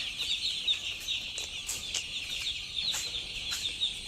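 Chickens crowded into a small poultry house at night give a steady, dense chorus of clucks and high calls, with occasional sharper squawks standing out against the constant flock noise.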